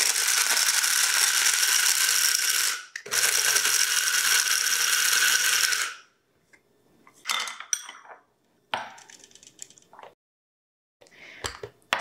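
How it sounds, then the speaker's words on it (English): One cup of pistachio nuts ground down in a kitchen appliance, a loud continuous grinding whir in two long bursts with a brief pause, then shorter rattling pulses and silences. "this is 1 cup of pistachio nuts that I'm breaking down"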